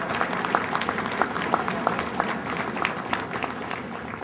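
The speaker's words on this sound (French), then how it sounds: "On devrait les applaudir tous les deux aussi." Audience applause at a municipal election campaign launch in Brossard, steady moderate clapping from a mid-sized crowd with crisp individual claps standing out throughout.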